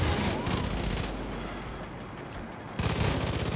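Sustained machine gun fire in the video game Far Cry 5, a dense, loud, continuous rattle that dips briefly mid-burst before resuming at full intensity.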